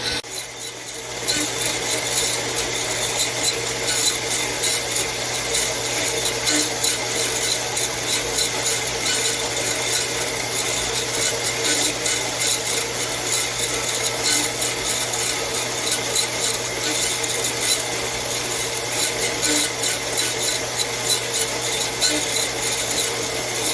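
A power saw fitted with a cheap Harbor Freight blade cuts through salvaged square steel tubing, a loud, continuous harsh grinding rasp that holds steady for the whole stretch, close up and without talk.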